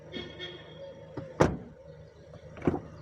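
A heavy Ford Kuga car door shuts with a heavy thud, then after a short pause another solid thump follows, amid quiet handling noises.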